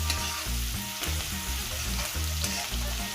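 Garlic and chopped green chillies sauté in a pan over low heat for dal fry, giving a steady close sizzle with soft stirring scrapes and no talk.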